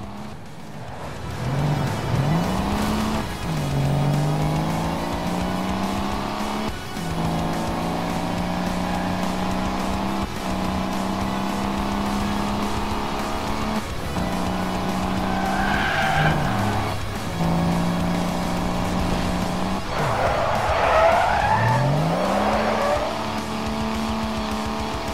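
Cars in Crash Time 5 skid with long tyre squeals and revving engines, several sliding passes rising and falling in pitch over a steady loud motor drone, with a harsher screech near the end.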